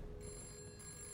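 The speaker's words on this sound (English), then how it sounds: "Oh, the phone's going." A telephone rings inside the video game This Bed We Made, a faint electronic ring with a steady sustained tone over a low background hum, heard alone with no talking.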